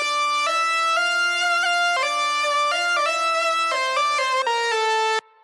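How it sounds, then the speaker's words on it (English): Layered synth lead combining a Korg MS-20, Purity and a Korg Triton playing a bright, buzzy melodic line of sustained notes with gliding pitch changes, close and alone until it cuts off near the end. "So I combine these three synths to get one synth."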